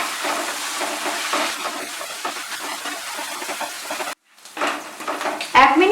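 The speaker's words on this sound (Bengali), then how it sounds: "আঁচটাকে বাড়িয়ে দিয়ে মশলাটাকে ভালো করে কষিয়ে নেব।" Spice paste with chilli powder, salt and sugar fries on high heat in a pan, sizzling steadily under stirring scrapes, then cutting off briefly before a louder burst of frying returns.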